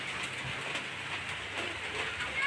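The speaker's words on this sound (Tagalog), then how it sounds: "Ayan, umulan." Steady rain falls in the afternoon, a dense, even hiss that holds through the whole short stretch with no voices over it.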